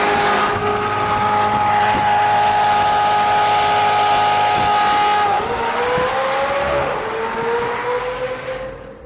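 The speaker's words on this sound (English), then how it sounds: "You guys want to see what that anti-lag looks like at nighttime?" A McLaren 720S with rolling anti-lag drives at night on city streets, its engine droning loudly and steadily throughout, shifting pitch midway, with no talk.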